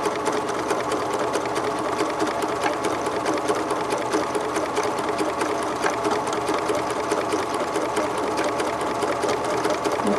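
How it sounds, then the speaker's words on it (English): Sewing machine stitching a stretch stitch on stretch fabric, the feed moving the cloth back and forth, a steady close hum and rapid needle chatter running without a break. "when I start to sew that the feed dogs are going to feed the fabric back and forth"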